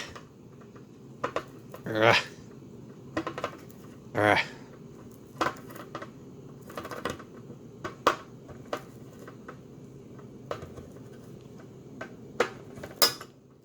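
A handheld manual can opener works around a metal can lid, giving irregular close metallic clicks and scraping knocks, with a few louder clanks along the way; no speech is heard.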